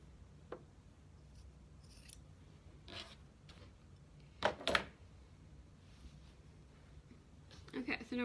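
Scissors snip through fabric to trim the corners of a placemat pillow, a few short crisp cuts spaced apart with a quick cluster near the end, faint and close over quiet room noise.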